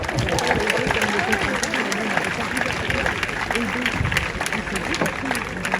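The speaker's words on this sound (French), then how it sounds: "On peut l'applaudir, hein." Audience applauding steadily at a tennis tournament closing ceremony, a sustained dense clapping from a crowd with a voice speaking over it.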